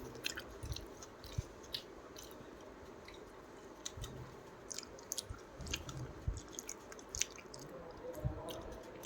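Fried snacks being chewed up close, with soft squishy bites and small crisp crunches repeating irregularly over a quiet room background.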